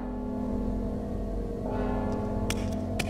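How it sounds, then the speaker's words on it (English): Bell ringing in the Mark of the Ninja video game, a low sustained tolling tone hanging over a steady ambient drone, with a couple of sharp metallic hits near the end. "Don't you hear the bell?"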